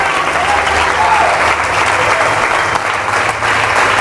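A church congregation at an evening evangelistic service claps continuously and steadily, the dense applause loud and sustained throughout with a faint voice underneath.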